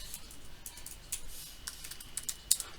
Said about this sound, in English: You can just type compare